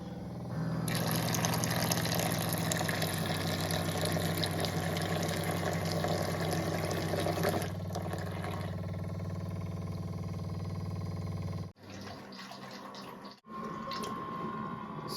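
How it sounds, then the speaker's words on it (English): Osmo Fresh Fusion Air reverse osmosis filter dispensing water, a steady close stream and pump hum that runs for several seconds, then stops and restarts in short bursts. "it's dispensing 2 liters of water"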